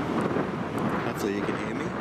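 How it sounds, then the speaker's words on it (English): Wind at a beach buffets the microphone in a steady loud rumble while a person talks over it. "It's pretty windy down here."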